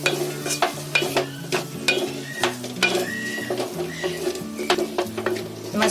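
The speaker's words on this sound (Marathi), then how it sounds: "मसाले चांगले फ्राय झाले" Spices fry in a pan with salt and kasuri methi for a green egg malai masala, with a soft sizzle under repeated scraping and stirring strokes of a spoon against the pan, a background tone humming steadily.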